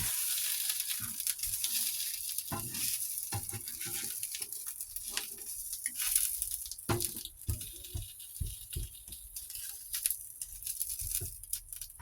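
Breakfast food frying in a pan until crispy, a steady close sizzle with crackling pops and scattered sharp spatters running throughout, no voices.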